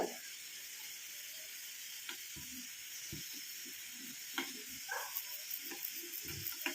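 Coconut oil mixture heats in a pan, a quiet steady sizzle and hiss with scattered small pops and crackles as it starts to froth, no voices.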